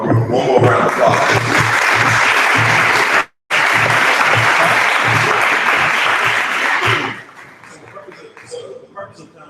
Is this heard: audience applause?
yes